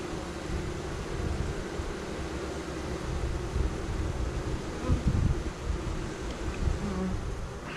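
A small honey bee swarm fans steadily in a close, dense buzzing drone that holds throughout, swelling slightly in places, with light wind noise on the microphone.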